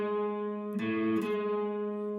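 Two guitar notes ring together as a held interval, a faint pick noise briefly stirring the tone midway before it sustains evenly.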